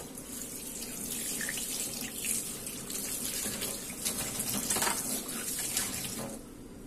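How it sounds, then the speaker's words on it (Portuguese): Tap water runs steadily over a sea bass being cleaned, a constant close splashing rush as the stream hits the fish and the sink, lasting throughout with no speech. "Geralmente eu gosto de bater uma água em cima assim, ó, né?"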